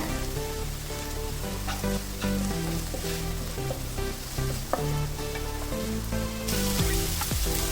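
Chopped okra and onion sautéing with salt in a pan, a steady loud sizzle and crackle with scraping stir strokes throughout and no voices.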